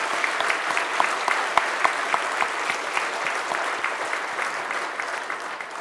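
A church congregation applauds steadily and loudly after a prayer, with many overlapping claps forming a dense, continuous ovation that carries on without talk.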